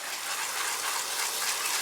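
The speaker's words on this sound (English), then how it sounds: "Give that a little water." Water poured from a can or hose onto plants in an outdoor garden plot, a steady, soft gushing splash that runs unbroken from start to end with no voices.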